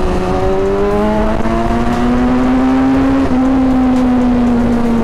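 A 1000cc BMW S1000RR liter-bike engine screams at high RPM, a steady loud tone that climbs slowly and holds near the top of the rev range for several seconds, with no talk over it.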